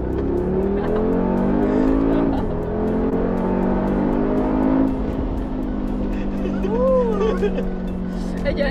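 A Mercedes G63 engine revs hard as it accelerates, producing a loud, deep, muscle-car-like roar that climbs steadily in pitch. Voices inside the cabin talk over the sustained engine sound.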